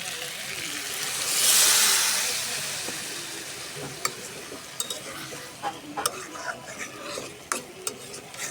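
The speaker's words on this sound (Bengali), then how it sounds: "এখন আমি পানি দিয়ে দিব সামান্য।" A pot of fish curry with fried fish and lentil dumplings hisses into a loud steamy sizzle as a little water goes in, then settles to a lower simmer broken by sharp stirring clicks and scrapes.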